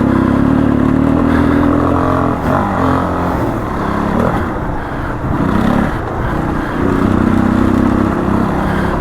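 Dirt bike engine revving on a dirt trail, a loud close motor that rises and falls in pitch as the throttle changes, with rattling and wind noise throughout.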